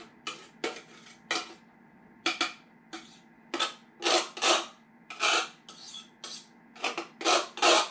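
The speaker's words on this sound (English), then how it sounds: "I like to use a butter knife. Try to scrape off as much as that you can." A butter knife scrapes in quick, uneven strokes, about fifteen short rasping passes over eight seconds, close and clear against a quiet background.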